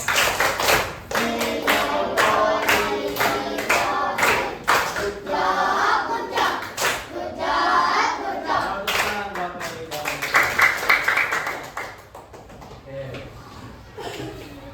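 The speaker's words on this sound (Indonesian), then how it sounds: "Sekarang tepuk bucok ya." A classroom of pupils performs the tepuk bucok, a patterned rhythmic clapping game, producing steady sharp claps in a repeating beat, loud and near, with children's voices chanting and talking throughout.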